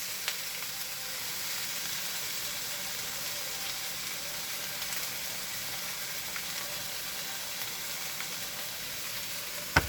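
Rice sizzles steadily as it fries in a hot pan, a constant close hiss lasting throughout, with a faint clink near the end.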